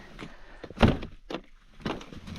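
Truck camper door on a Ford F250 in deep snow, a series of close thumps and scraping knocks as it is worked open, with one loud clunk near the start and quieter rattles after.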